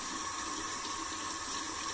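Water runs steadily from a bathroom tap while shaving lather is worked up with Art of Shaving products, a continuous close hiss and splash with no pauses and no talking.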